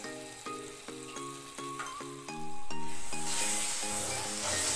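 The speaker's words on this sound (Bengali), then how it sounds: "দিয়ে ভালো করে মশলাগুলো কষাতে থাকছি।" Spices with dry red chili powder and coriander powder sizzle in a pan while being stirred, a close crackling fry that swells louder partway through, with no one speaking.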